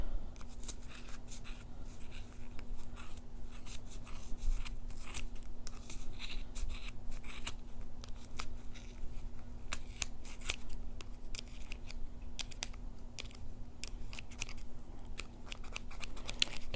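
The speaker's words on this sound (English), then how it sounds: "We're just going to go ahead and cut down the middle." Scissors cutting through yarn wound on a Boye pom pom maker, many quick close snips in an uneven rhythm, soft and alone with no talking.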